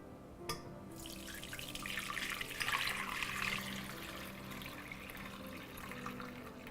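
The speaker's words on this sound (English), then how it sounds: "we will take the broth and strain the broth" Beef broth for borscht poured through a strainer, a steady soft splashing and trickling of liquid heard close by with a faint clink at the start, no speech.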